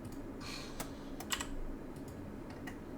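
Computer keyboard keys are pressed in a quiet room, a scattering of soft, sharp clicks at irregular intervals, with a brief cluster of taps in the middle.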